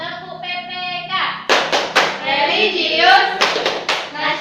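Classroom rhythmic clapping chant in which children clap in sharp, patterned bursts between chanted words, loud and close, with voices chanting between the claps.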